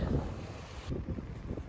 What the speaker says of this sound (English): It was very, very cold and windy.